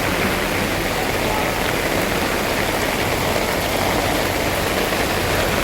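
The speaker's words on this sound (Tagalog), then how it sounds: "Grabe lakas ng ulan." Heavy rain pours down steadily on a market, a dense continuous roar of drops striking surfaces, loud and unbroken throughout.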